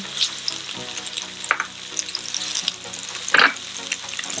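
Garlic frying in a hot pan for a simple fish dish, a close, constant crackling sizzle with a few sharper pops and spits, no voices over it.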